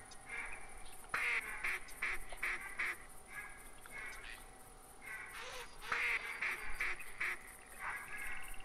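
Ducks quack repeatedly in theHunter hunting game, a series of bright, moderately loud calls over a steady outdoor ambience, with a voice talking intermittently underneath.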